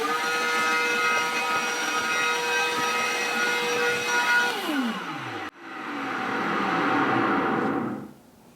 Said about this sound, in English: Take a vacuum, turn it on.